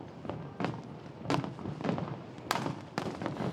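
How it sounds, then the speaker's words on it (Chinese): Fireworks burst over the sea at the opening celebration of the Pelješac Bridge in Croatia, a series of sharp pops and booms at irregular intervals over crowd ambience. "烟火伫空中是水架"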